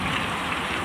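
Heavy rain with hail and strong wind during a sudden nor'wester storm roars as a dense, steady wash of noise, loud and close, with no voices.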